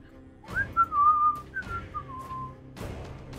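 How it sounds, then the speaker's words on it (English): A person whistles a short, casual tune alone: a few rising and falling sustained notes with a brief pause between phrases, close and clear, followed by a faint knock near the end. "Just whistle nonchalantly."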